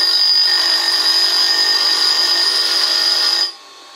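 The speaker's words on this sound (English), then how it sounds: "we grind the other side." Bench grinder with grinding stones on both sides working the other side of a tool, a loud steady high-pitched whine with grinding hiss that cuts off abruptly near the end.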